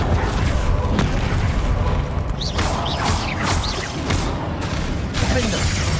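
A Confringo spell blast in Hogwarts Legacy, a fiery booming explosion with crashing debris, heard amid dense game combat noise and a voice calling out, several bursts swelling over about six seconds.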